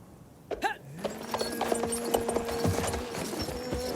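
Horse hooves clip-clop in a steady gallop rhythm in the video game Battlefield 1, with a short whinny near the start and a sustained musical tone beneath.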